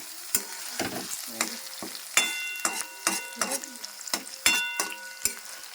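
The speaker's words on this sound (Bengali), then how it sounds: "পেঁয়াজটাকে ভালো করে ভেজে নেব" Plenty of onions frying in a pan for a mutton curry, a crackling sizzle broken by regular scraping strokes of a spatula, about a dozen stirs in quick succession, close and fairly loud.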